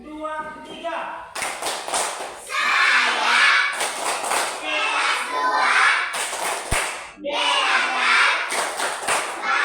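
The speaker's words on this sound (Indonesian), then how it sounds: "Tepuk bahagia 1, 2, 3." A school class claps together in a rhythmic group clap, bursts of sharp hand claps arriving in patterned runs with short pauses, up close and loud, mixed with children's voices and a teacher leading.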